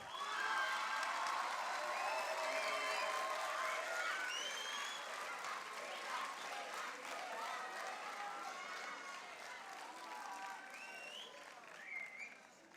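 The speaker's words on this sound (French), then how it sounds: "je vais accueillir les 4 premiers candidats sous un tonnerre d'applaudissements pour les encourager" Thunderous applause with cheers and whoops from a festival crowd welcoming four candidates to a student mini-enterprise pitch battle, loud and continuous throughout, easing slightly as it goes on, with shouted voices mixed in.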